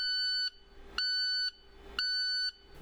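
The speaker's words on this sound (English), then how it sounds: "If the DPF light is flashing with a beeping alarm" Warning alarm of an International LoneStar truck signalling a full DPF exhaust filter: three evenly spaced half-second electronic beeps, high and tonal, sounding alone and close.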